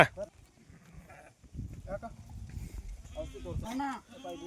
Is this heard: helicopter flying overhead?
no